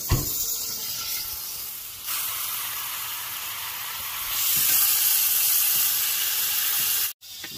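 Butter and olive oil sizzle in a pan with lamb, a steady close hiss that swells louder halfway through and cuts off sharply near the end.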